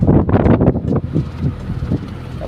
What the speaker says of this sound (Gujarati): પવન એટલો છે ને વાત પૂછો.